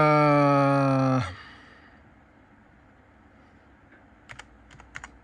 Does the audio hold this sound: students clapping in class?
no